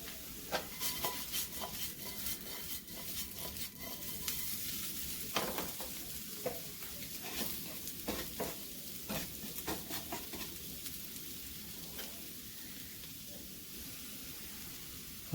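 Shrimp and spiced potatoes frying in a pan, a steady faint sizzle with scattered crackles and the occasional clink of a utensil.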